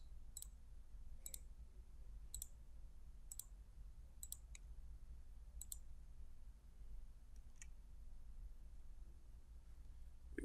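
A computer mouse clicks in short, sharp, evenly spaced taps while appointments in a calendar program are selected, each click quiet and isolated over a steady low hum, with no talking.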